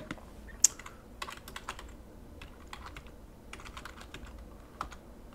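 Fingers tap on a computer keyboard in irregular bursts of quick keystrokes with short pauses, close and fairly quiet, while a Python script is typed.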